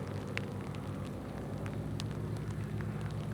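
Rain falling at Brooks Camp in Katmai National Park, Alaska, a steady close hiss of drops with faint scattered patters throughout.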